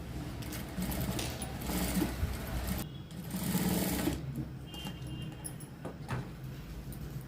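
Sewing machine stitching a blouse placket with a double row of stitches, running in steady bursts with brief pauses, close and fairly quiet with no talk.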